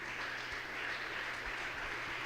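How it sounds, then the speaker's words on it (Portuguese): A church congregation gives a round of applause, a steady even wash of many hands clapping at a distance, fairly faint and continuous throughout. "Vamos dar mais uma salva de palmas para Jesus."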